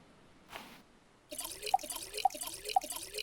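Water poured onto freshly planted potatoes in the survival game Stranded Deep, a soft splash near the start, then repeated dripping and trickling with small regular drops over a low watery wash, close and fairly quiet.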